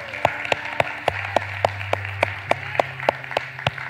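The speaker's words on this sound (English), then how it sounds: "can we clap and celebrate with our brother here?" A church congregation clapping in an even, steady rhythm, about three claps a second, sharp and moderately loud over a soft room hum, with no talk.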